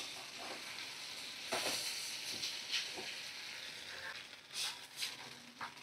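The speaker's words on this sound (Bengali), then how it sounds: "তো দেখো পরিমাণ মতো একটু গরম জল আমি দিয়ে দিলাম" Goat liver curry sizzles and hisses in a hot pan as hot water is added, a steady frying crackle with a few brief steamy bursts and stirring scrapes.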